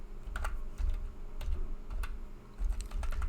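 Keys clatter on a computer keyboard in quick bursts of typing with short pauses, close and moderately loud, no voices.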